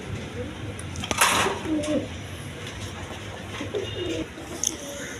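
A pair of Giribaz high-flying pigeons gives soft, low cooing calls close by, heard under someone talking and faint background noise.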